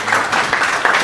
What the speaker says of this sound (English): I would be happy if we can give him another round of applause.